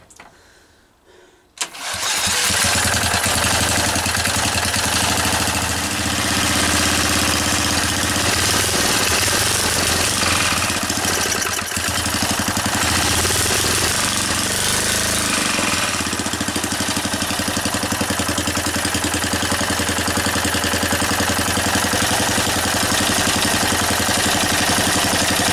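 A 1 1/2 HP Lister stationary engine starts after a quiet moment, then runs steadily and loudly close by as it warms up, a continuous rumbling chug with no talking.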